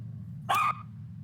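A dog gives a single short bark, close and loud, over a steady low hum.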